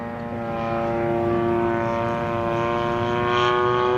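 The 35cc gasoline engine of a Seagull Models Gilmore Red Lion Racer, a 74-inch RC plane, drones steadily in flight, with a buzzing propeller tone that swells slightly as it passes at moderate distance.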